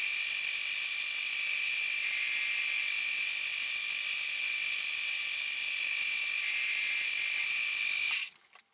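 A high, steady grinding whine of a power tool cutting off the corners of a small metal part for a railroad switch lock, continuous and fairly loud for about eight seconds before stopping abruptly.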